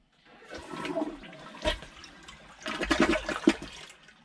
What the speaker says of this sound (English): All right, let's see if it'll flush.